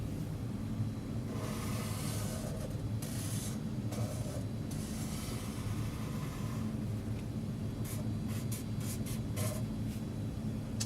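A pencil or pen drawing a cartoon Fred Flintstone on paper scratches in bursts of short and longer strokes, close and quiet over a low steady hum, with no talking.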